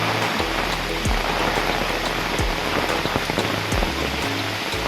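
Rain falls on the hillside at Karnala Fort near Panvel as a dense, constant patter, with heavier drips striking nearby surfaces at irregular moments, and no one speaks.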